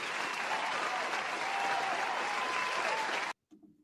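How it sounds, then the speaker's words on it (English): Steady, dense applause from a live boxing talk show audience, sustained for about three seconds before cutting off abruptly, followed by a brief faint sound. "I want to give y'all a round of applause."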